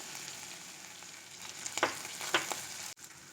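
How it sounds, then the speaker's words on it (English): Ginger garlic paste frying with onions and green chilies in a pan for bhindi in coconut milk, a quiet continuous sizzle with a couple of sharper stirring scrapes, ending in a sudden cut. "Let's add the ginger garlic paste into it and fry for a little time"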